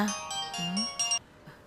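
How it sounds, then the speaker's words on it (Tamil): A mobile phone plays a short melodic ringtone close by, a few bright tonal notes repeating for about a second before cutting off. "பூமிகா ஏன் ஃபோன் பண்றா?"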